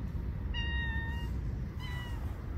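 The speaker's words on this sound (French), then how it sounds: "Ils sont tous là, les chats. Ils sont tous là. Vous les entendez ou pas? Ils attendent que je vienne leur donner à manger." Several cats meow repeatedly while waiting to be fed outdoors, two clear, tonal, drawn-out meows close by over a constant low rumble of background noise, with no talking.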